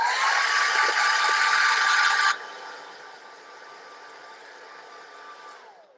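Hair dryer blowing on a raised setting while curling a moustache, a loud steady broadband whoosh with a faint tone; it drops to a softer, quieter airflow about a third of the way through and runs on evenly.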